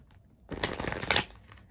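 A deck of Buddha wisdom oracle cards gets one quick, close riffle shuffle, a crisp burst of about a second against a quiet room.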